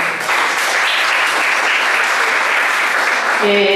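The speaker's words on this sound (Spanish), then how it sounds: "les pido un caluroso aplauso" Loud, dense applause from a conference audience in Cuernavaca fills the whole stretch, steady and sustained before fading slightly at the end.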